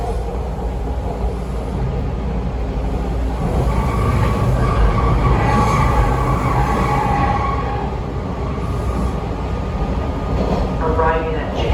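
Toronto TTC Line 2 subway train ride heard from inside the car on a Saturday evening: a loud steady rumble of wheels on track with rising and falling motor whine and brief squeals, continuous throughout.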